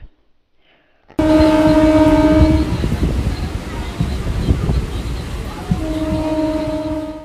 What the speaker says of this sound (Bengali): ট্রেনটা স্টেশনে পৌঁছলো ঘন্টা 2 লেট করে।